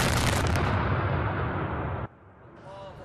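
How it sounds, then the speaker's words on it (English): Airstrike explosions in a northern Syrian town give a dense, loud roaring rumble for about two seconds that cuts off abruptly into quieter background noise. "Footage shows explosions in and around residential buildings"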